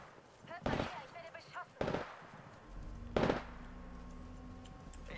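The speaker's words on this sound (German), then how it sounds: "Ja, unser Buddy hier wird beschossen." Gunfire aimed at a teammate in Apex Legends: three sharp, loud shot bursts land roughly a second apart, followed by a steady low mechanical hum.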